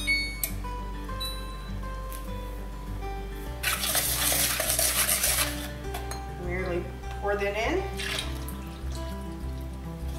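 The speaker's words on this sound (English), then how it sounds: "Give her a stir." Food is stirred in a pot in a home kitchen, with soft scraping and clinking of a utensil against the pot and a burst of louder clatter midway, set over a low steady hum.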